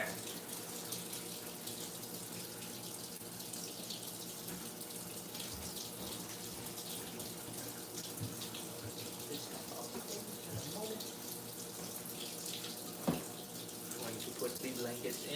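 Continuous running water fills an Amana direct drive washer at low pressure, a steady even rush with a faint clatter near the end.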